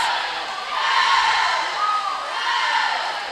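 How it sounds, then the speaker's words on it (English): Teammates cheer from the pool ends at a girls' swim meet, a steady wash of shouting voices and echoing crowd noise in an indoor natatorium, continuous and fairly loud. "We have teammates cheering on at the ends."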